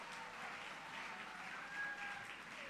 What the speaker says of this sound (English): With a standing ovation and a warm round of applause